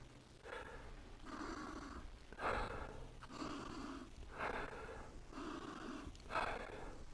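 Six or seven close, breathy sniffs at an Arby's French dip sandwich in a slow, regular series, each a short airy inhale with pauses between.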